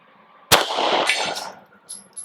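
A Sig P365 Gen 2 9mm micro pistol fires one sharp shot, followed by the ringing clang of the round hitting a steel target 100 yards away, with a long fading metallic decay.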